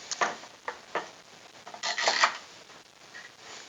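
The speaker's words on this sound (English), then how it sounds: "I am going to use my clamp right here" A clamp being tightened down on a table saw sled used for cutting pen blanks, heard as a few close, quiet scraping and rasping turns in short separate bursts with brief pauses between them.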